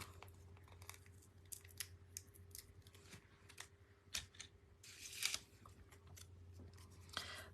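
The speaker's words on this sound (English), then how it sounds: "Let's get scissors, because we'll be doing a few of these, so I'm just going to cut the whole lot in half here" Scissors cutting through a whole stack of material in half, a series of quiet close snips and crunchy blade closes with small rustles between, fairly faint and without talk.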